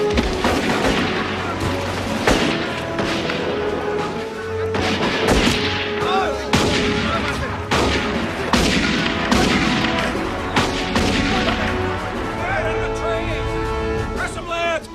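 Machine gun bursts and explosions fill a film battle scene, loud and repeated over about fifteen seconds, with shouting voices mixed among the gunfire.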